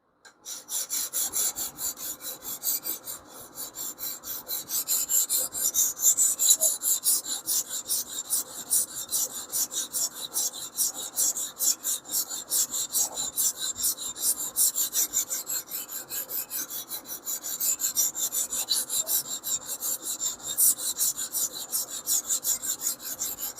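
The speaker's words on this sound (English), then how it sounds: "taking a wider range of metal off with the 6-inch stone" A knife blade is drawn across a coarse 6-inch sharpening stone in steady, rhythmic rasping strokes, close and alone, with brief pauses between sets of passes.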